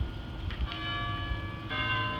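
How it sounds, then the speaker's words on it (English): Church bells toll with lingering harmonic tones, a fresh strike landing near the end, heard from some distance with no talking. "And there's the church bells too."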